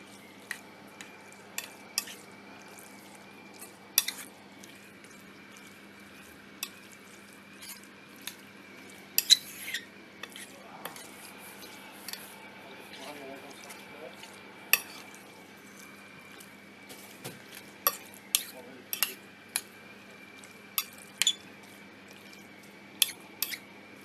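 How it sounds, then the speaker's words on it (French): A utensil stirs pasta gratin with vegetables in a baking dish, giving soft scraping with scattered sharp clinks against the dish. The sounds are quiet and close, with no talking. "Il faut bien mélanger."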